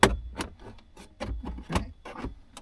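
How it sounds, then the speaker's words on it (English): Plastic trim tool prying a dashboard vent panel out of a Vauxhall Opel, a run of short scraping creaks and rubbing clicks up close, no talking. "gently pry it out. You need to use a plastic tool so you don't scratch the trims."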